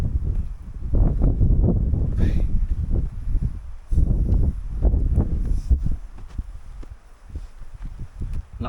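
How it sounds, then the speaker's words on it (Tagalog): Strong wind gusts batter the microphone on a mountain trail during a Mount Kabunian day hike, coming as heavy, uneven low rumbling bursts that rise and fall over several seconds. "Lakas ng hangin"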